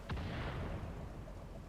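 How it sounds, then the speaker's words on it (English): An artillery shell strikes near a tank in World of Tanks: a single sharp boom near the start, followed by a low rumbling decay that lingers for over a second, with no talking. "Being targeted by the artillery."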